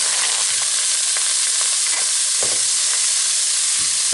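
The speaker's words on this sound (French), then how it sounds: "on met à frire le mélange de fruits de mer" A seafood mix fries in a little oil in a pan, producing a dense, steady sizzle with scattered light stirring clicks throughout, close and loud without any voices.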